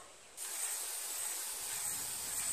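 A cheap 98-cent touch-up spray paint can sprays in one sudden, continuous bright hiss that starts abruptly after a brief quiet moment and holds steady close to the microphone.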